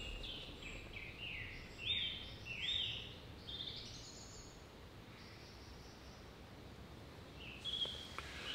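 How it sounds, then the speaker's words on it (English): Sparse, faint bird chirps and short tweets ring out now and then over a quiet outdoor background, with a few brief calls clustered early and another near the end. "to love and connect with nature, to love and listen to the birds."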